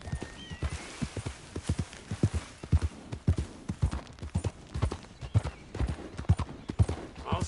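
A horse's hooves clip-clop at a steady walking rhythm in the Western open-world game Red Dead Redemption 2, close and distinct, with a faint whinny and no talking.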